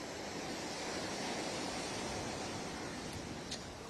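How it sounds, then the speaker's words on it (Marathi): High-tide sea waves on the Mumbai coast make a faint, steady, unbroken roar of surf, a wide wash of noise with no voices. "मुंबईतील समुद्र किनाऱ्यांवरती भरती जी आहे ही आलेली आहे, समुद्राला भरती आलेली आहे।"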